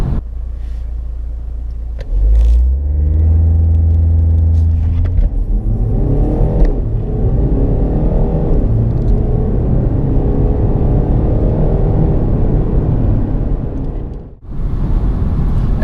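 2018 BMW X2 xDrive25d diesel accelerating hard from 0 to 60, a deep engine roar that climbs through several rising gear pulls after launch, loud and close, easing off near the end with no talking.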